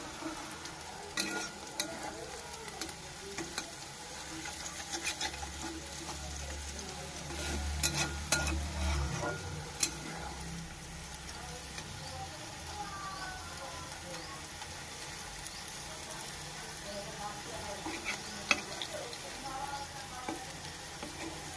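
Chowmein noodles fry quietly in a pan with a soft, continuous sizzle, broken by faint clinks and scrapes of stirring.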